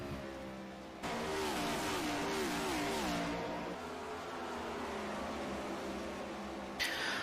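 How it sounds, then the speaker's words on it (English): Race cars in a sim racing game at Phoenix Raceway sweep past loudly, a rising and falling engine whine of several cars in quick succession, running continuously with no talk. "Cars fly by just as the laps do"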